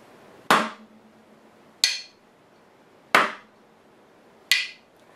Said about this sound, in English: We're going to take our beaters and we're going to play them on the drum head both